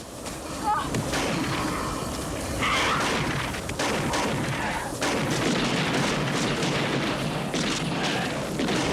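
A bomb blast in a 1981 horror film dubbed in French, heard as a dense, loud roar of booming and crashing debris that fills the whole stretch without letting up.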